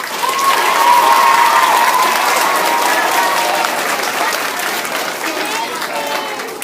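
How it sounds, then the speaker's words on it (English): An audience at a school student team inauguration applauds loudly for student alternates, steady clapping with some cheering that gradually eases over several seconds. "Another round of applause for our alternates."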